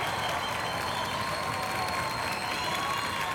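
Audience applause and cheering greet a guest singer at a live gospel concert, a steady dense wash of clapping and crowd noise with sustained tones from the stage mixed in.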